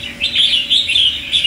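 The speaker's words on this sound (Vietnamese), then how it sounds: "nghe tiếng chim phát săn sục cực kỳ tốt luôn, ra giọng tốt, săn sục tốt" A red-whiskered bulbul (chào mào) calls in a quick run of bright, repeated chirps and warbles. The calls are fairly close and clear over faint background noise, with no voices.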